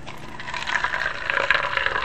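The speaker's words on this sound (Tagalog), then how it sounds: "Ilalagay natin itong mainit na tubig dito sa styrocup." Hot, just-boiled water poured into an empty styrofoam cup, a steady close splashing, filling sound lasting a couple of seconds with no talk.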